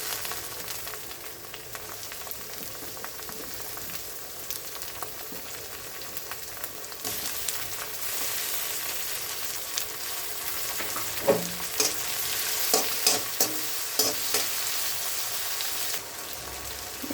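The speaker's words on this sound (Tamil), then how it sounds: "வெங்காயமும் தக்காளியும் நல்லா வதங்கிடுச்சு." Onion and tomato sauté in a pan for sundal kulambu, a steady close sizzle and hiss throughout, with clinks and scrapes of stirring growing louder and more frequent in the second half.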